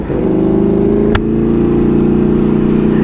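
A Ducati Panigale V4 sport motorcycle pulls away slowly, its engine holding a steady, loud, close rumble that continues through the whole stretch, with one brief sharp click partway through.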